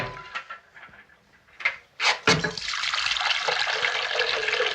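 Liquid poured into a container during an emergency medical procedure in a 1930s setting, starting with a few short splashes and then settling into a steady, continuous stream that fills the vessel.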